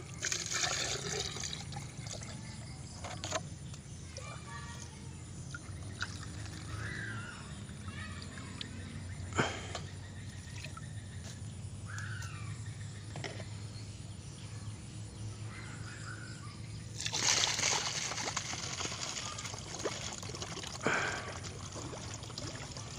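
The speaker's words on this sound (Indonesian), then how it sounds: "lalu kita tuangkan satu liter air rendaman abunya" A litre of ash-soaked water being poured into a container to dissolve TSP/SP36 fertilizer, heard as a steady continuous splashing trickle for the whole stretch, close and even, with a brief louder surge near the end.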